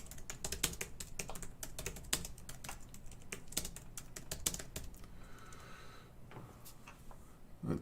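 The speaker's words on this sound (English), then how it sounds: "Let me just type a message here." Rapid typing on a computer keyboard, with clustered key clicks in an uneven rhythm across most of the stretch before it thins out near the end; no one speaks.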